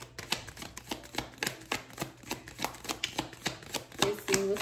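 Tarot cards are shuffled close up in a quick, even run of crisp riffling flicks and soft slaps, with a faint tone near the end.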